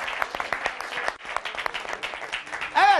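A studio audience at the Karadeniz Show claps in an uneven, lively round of applause, ending in a brief high whistle-like tone.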